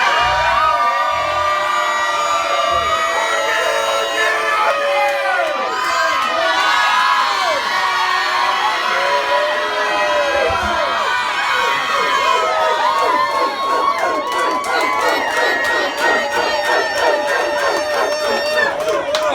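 A loud pub crowd at a live gig at the Witham White Hart cheers, whoops and shouts continuously, many voices overlapping in a dense, sustained roar.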